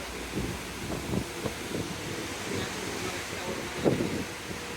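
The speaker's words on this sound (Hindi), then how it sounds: "जहाज अपनी फुल स्पीड से चल रहा है, हवा में काफ़ी शोर है।" Steady wind roars and buffets over rushing water on a ship moving at full speed off Lakshadweep, with occasional louder gusts and thumps hitting the microphone.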